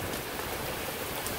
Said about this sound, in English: Still coming down. More rain.